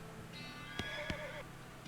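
Horse whinnies in the West of Loathing video game, a rising and falling neigh with a couple of sharp clip-clop hoof knocks, moderately faint over a steady background hum.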